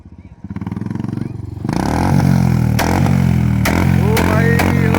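A loud motorcycle idles with a rapid pulsing thump, then revs hard into a roaring, sustained engine note close by, with sharp pops and crackles bursting through the exhaust roar.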